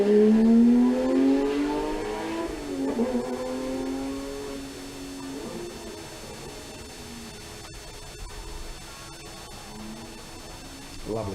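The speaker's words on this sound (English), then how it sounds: "Lovely sound, that car." A Porsche GT3 race car accelerates at a sprint event, its engine note climbing through several gear changes. The note is loud at first, then fades as the car pulls away, with faint crowd or wind noise beneath.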